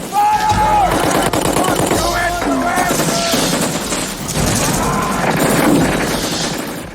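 Machine-gun fire and gunshots ring out in a Vietnam War battle scene from a Cannon Films action movie, loud and sustained bursts mixed with shouted voices and crashing effects.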